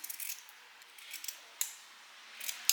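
Scissors snip through fabric to shorten a pair of shorts, giving a few sparse, quiet crisp cuts with a sharper snip near the end, in a quiet room with no talking.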